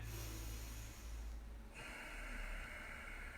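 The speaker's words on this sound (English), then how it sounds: "like a raspy exhale through the nose" Close, quiet, raspy breathing through the nose during a breathing exercise: one long rough inhale, a short pause, then a hissing exhale.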